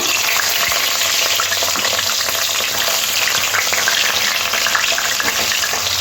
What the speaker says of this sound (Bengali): ভাজার পরে এবার বেগুনগুলো ভেজে নেব